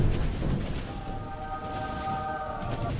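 Steady rain hisses across the whole stretch in a video game, with a soft sustained tone humming underneath.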